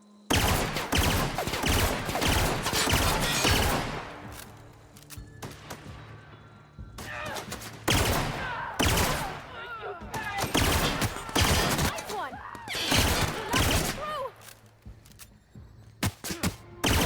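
Pistol fire in The Outer Worlds video game, loud repeated sharp shots in rapid bursts with short pauses between volleys, and a voice occasionally under the gunfire.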